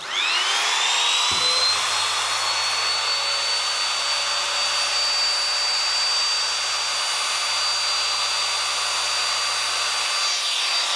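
A BRAXTER BT370-WT wood trimmer set on a table starts up and runs steadily, its motor giving a loud, high, continuous whine that holds for about nine seconds before it cuts off near the end.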